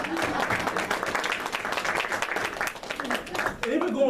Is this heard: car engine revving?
no